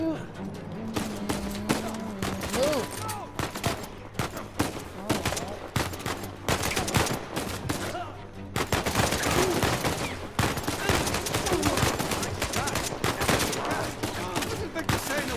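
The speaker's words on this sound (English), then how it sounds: "I'm using an AK-47" AK-47 fire in the video game Uncharted 4, with sustained rapid automatic bursts and scattered gunfight shots, loud and dense throughout while people talk over the action.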